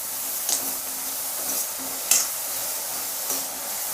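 Chopped ridge gourd sizzles with onions in a pan, a soft continuous frying hiss broken by a few short scraping stirs of a spoon, close and fairly quiet with no one talking.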